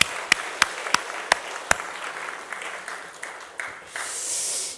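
Church congregation clapping for the youth during a Sunday morning service, a few loud separate claps at first that thin out, then a soft hiss near the end.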